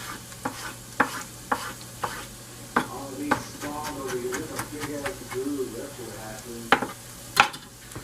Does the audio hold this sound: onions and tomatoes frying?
yes